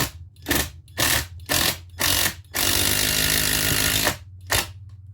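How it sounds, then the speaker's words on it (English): An impact driver fires in short repeated bursts, then runs in one longer stretch, then one final burst, sinking screws into 2x4 timber without pre-drilling up close. "you can actually use an impact driver to put those on"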